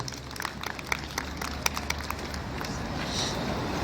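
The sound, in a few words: audience applause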